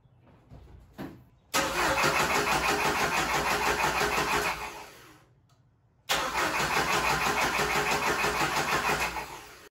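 Jeep Wrangler TJ four-cylinder engine cranking with the fuel pump relay removed and no fuel pressure, two long loud starter-cranking bursts separated by a short pause, close by, never catching.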